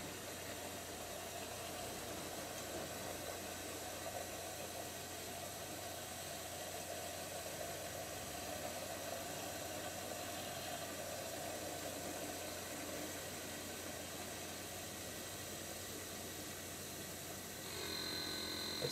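Small homemade hydro power turbine spinning fast under a throttle nozzle: a steady, even whirring and hissing rush of water that holds constant, then shifts slightly near the end.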